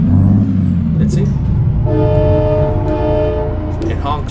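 A loud truck horn in a video game honks for a couple of seconds over a rumbling engine, with a voice talking around it.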